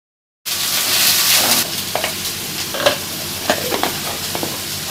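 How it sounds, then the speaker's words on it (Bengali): Chopped tomato with ground cumin and coriander frying in a pan for a paneer dish: a steady bright sizzle with occasional clicks and scrapes of stirring, close and continuous. "সব মশলা কষানো হয়ে গেছে"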